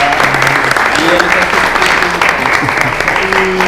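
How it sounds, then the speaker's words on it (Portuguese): Audience at a circus and arts discussion circle breaking into loud, sustained applause, dense clapping filling the room with voices beneath it. "Queria uma salva de palmas pro"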